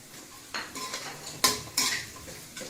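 Almonds and raisins fry in a pan under a faint sizzle, with a few distinct scraping and clinking strokes of a utensil stirring against the pan.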